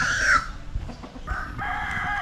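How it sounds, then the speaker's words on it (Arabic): A rooster crows loudly and close at the start of the clip, on a rural island farm in Indonesia among chickens. Its call fades into a mix of farmyard clucking, and then a second, long, steady call carries on beneath it. "كلها ديوك ولا ايش؟"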